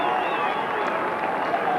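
A crowd at a 1998 Australian football match between North Melbourne and Port Adelaide roars after a goal, a sustained distant cheer with a commentator talking over it.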